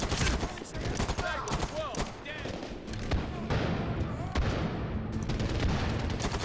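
Rapid bursts of gunfire crackle through a close firefight in Medal of Honor Warfighter, loud and continuous with scattered impacts, while a player's voice talks over the shooting.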